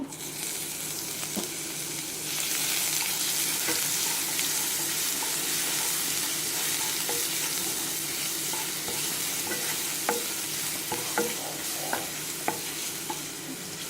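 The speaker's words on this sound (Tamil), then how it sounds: "பச்சை வாசனை போகிற வரைக்கும் இதை ஃப்ரை பண்ணணும்." Fennel seeds and ginger-garlic paste fry in a pan for a Tamil tomato curry, giving a constant close sizzle with scattered spatter pops and light stirring clicks, and no voices.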